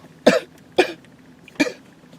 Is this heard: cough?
yes